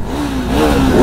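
Several motorcycles, including a Honda 650, rev their engines on a loud group Sunday ride, producing a brief, close, loud roar with a rising whine.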